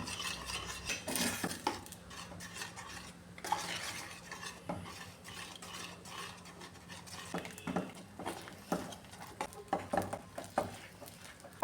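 A spoon scrapes and knocks around a pan as palappam batter is stirred and thickened over medium flame on a gas stove, with a soft patter and clinks that come in uneven bursts, close and fairly quiet.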